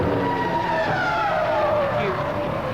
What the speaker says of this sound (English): You get a clear shot at listening at Michael Schumacher's car.